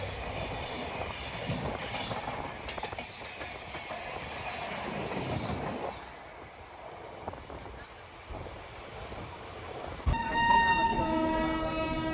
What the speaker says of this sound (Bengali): train number one three zero five four Radhikapur থেকে হাওড়াগামী কুলিক এক্সপ্রেস